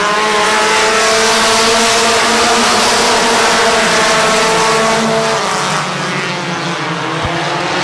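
A pack of compact race cars roars away at the green flag of a 15-lap feature at Midvale Speedway, engines droning and revving loudly in a dense, sustained wall of sound with layered pitches that shift as the field goes by.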